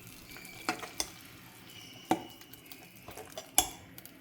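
Spoon stirring pongal in a metal pot, a few sharp clinks and scrapes scattered over a quiet kitchen background, close and fairly soft.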